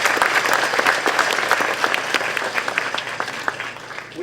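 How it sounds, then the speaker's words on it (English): Dense, steady applause from a large audience at a college commencement ceremony, filling the hall from start to finish and easing slightly toward the end. "Please give them a round of applause."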